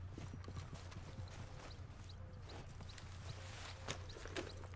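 A horse walks in a cowboy video game, its hooves clip-clopping in a steady rhythm over a low constant hum, quiet and close, with no clear whinny.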